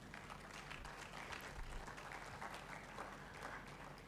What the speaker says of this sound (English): please help me welcome with a huge round of applause, Kwabna Anefi Jateng